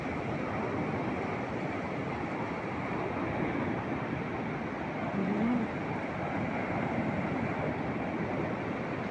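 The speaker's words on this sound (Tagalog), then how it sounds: "Buti na malakas ng alon" Strong ocean waves roll in a steady, broadband wash along a shore where a bird is hunting fish, with constant surf noise and a touch of wind and no clear breaks.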